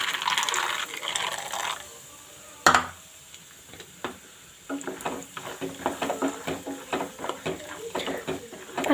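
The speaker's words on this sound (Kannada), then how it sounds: "ಸೊ ಫಸ್ಟು ಶೇಂಗಾ ಹಾಕಿ ಹುರ್ಕೊಳ್ಳೋಣ ನಾವು" Peanuts roasting in hot oil for a tempering for oggarane churumuri, giving a run of close, irregular crackles and sharp pops that cluster densely in the second half, with faint stirring clinks at the start.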